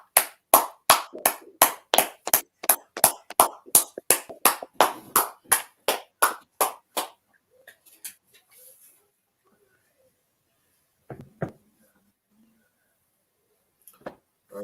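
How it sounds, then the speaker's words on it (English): A church audience claps in a rapid, even rhythm of sharp, close claps that stops abruptly after about seven seconds, leaving near silence broken by a few faint scattered sounds. "let's clap it up for Officer 5000 a bun"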